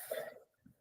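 A single short cough, close and fairly quiet, followed by a faint breath.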